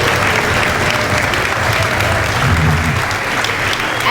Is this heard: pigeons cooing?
no